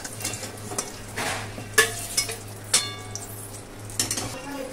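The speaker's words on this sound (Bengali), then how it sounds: "এখানে হচ্ছে বেগুন ভাজা" Eggplant slices fry in a home kitchen pan with a steady soft sizzle, broken by several clinks and scrapes of a utensil stirring and turning them, close by, with no talk.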